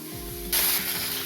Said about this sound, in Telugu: కొంచెం ఉడికే వరకు ఇలా తిప్పుకుంటూ మనం ఫ్రై చేసుకుందాం.